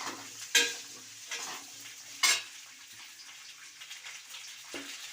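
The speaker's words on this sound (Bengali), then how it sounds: "এবার এটাকে ভালো করে ভেজে নেব" Vegetables fry in a pan for spinach chorchori with prawns, a low steady sizzle broken by a couple of sharp clatters of stirring and a soft clunk near the end, close by with no voices.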